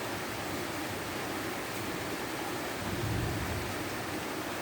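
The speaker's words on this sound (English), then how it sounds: "It's thundering." Thunder rumbles low and steady beneath a constant hiss of rain during a calm, windless rainstorm, with the rumble swelling slightly near the end.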